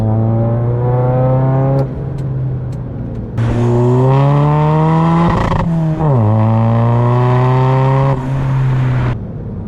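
A MINI Cooper 2.0 SD with a B47 diesel engine and custom exhaust revs and accelerates hard in second gear, its loud droning engine note rising in pitch through several pulls and easing between them.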